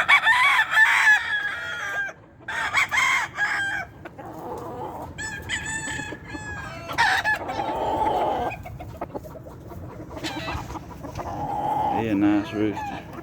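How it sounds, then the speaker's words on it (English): Several roosters, including a Red Irish Powell brassback butcher gamecock, crow repeatedly on a farm, loud and close, with clucking fowl between the crows. "He a nice rooster."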